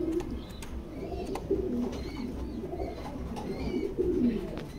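Racing pigeons in a loft coo repeatedly in soft, overlapping low calls over a busy background murmur, with faint chirps scattered between them and no speech.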